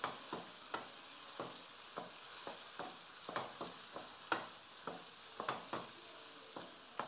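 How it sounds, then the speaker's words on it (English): Gizzard being stirred into a pepper sauce in a pan for Nigerian gizdodo, a soft sizzle punctuated by a steady series of spoon scrapes and clinks, close and without talk. "I am going to add our gizzard into our sauce and I will mix everything"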